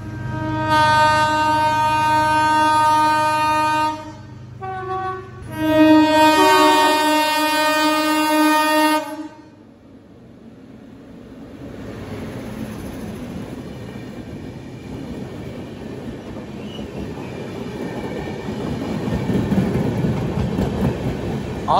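A MEMU train horn blares in two long blasts at Samalkot Junction, then wheels rumble and clatter as the train slowly gathers speed.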